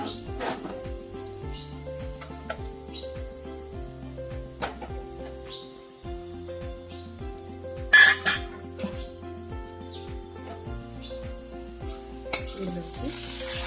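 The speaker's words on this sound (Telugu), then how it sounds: "పోపు వేగిపోయిందండి. స్టవ్ ఆఫ్ చేసుకుని రసంలోకి వేసుకుందాం." Fried tempering is poured into rasam, raising a brief loud sizzling burst midway that then fades, over a quiet background with a steady musical tone and occasional light clinks.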